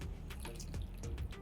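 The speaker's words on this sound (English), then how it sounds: "I'm adding to it hot water and then I'll squeeze it out." Hot water is poured into a bowl of soya granules, making a steady, close splashing and trickling pour with small bubbling surges throughout.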